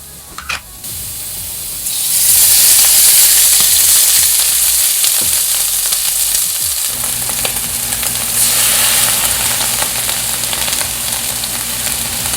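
Food sizzles and fries loudly in a 12-inch iMarku hammered stainless clad frying pan on a stove top, a steady bright hiss that starts after a quiet moment and continues without pause.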